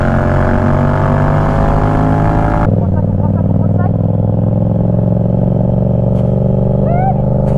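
A motorcycle engine drones loudly and steadily, changes pitch sharply partway through as it accelerates to overtake, then keeps roaring close by.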